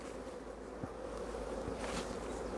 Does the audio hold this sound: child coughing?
no